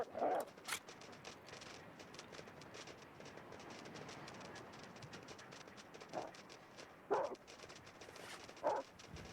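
Dogs barking in the survival video game The Long Dark, a few scattered distant barks and yelps over quiet windy ambience.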